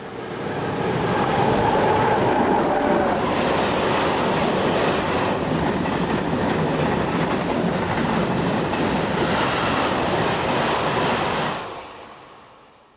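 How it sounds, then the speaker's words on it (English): Locomotive 6562 hauls a late-evening southbound freight train in Italy with a loud, continuous rumble and rattle of wagons rolling past, holding steady for about eleven seconds before quickly fading away. "Our final scene shows 6562 heading a late evening southbound freight."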